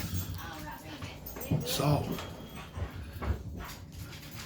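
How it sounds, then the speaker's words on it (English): A dog whimpers and whines in excited bursts near the middle of the clip, with low thumps scattered through, while a person speaks over it. "And that's my dog going ham."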